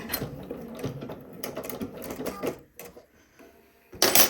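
A sewing machine back stitching on a shirt pocket in short bursts of rapid mechanical stitching separated by brief pauses, close and moderately loud, with no talking.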